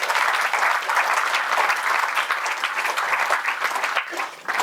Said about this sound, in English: I request you to clap, please.